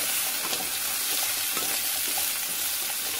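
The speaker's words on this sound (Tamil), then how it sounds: "நல்லா வதங்கட்டும்." Onions sizzle and fry loudly in a hot pan with constant hiss and crackle, while a utensil stirs them in occasional soft scrapes, close up and with no voices.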